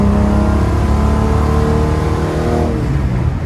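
A car fitted with triple Weber carburetors accelerates hard, its engine note loud and close, rising and holding steady for several seconds with no talk.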